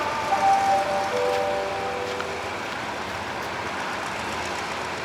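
Rumbling train noise at Bang Sue Grand Station in Bangkok, with a faint high whistle-like tone near the start, a steady broadband roar throughout.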